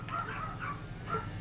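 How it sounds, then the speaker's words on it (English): Dogs indoors give a few short, high yips and whimpering barks at moderate distance over a low steady hum. "Why are my dogs barking?"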